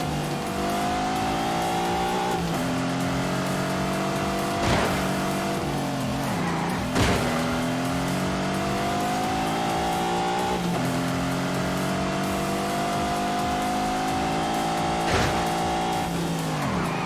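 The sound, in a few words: race car engine and tire squeal, The Grand Tour Game video game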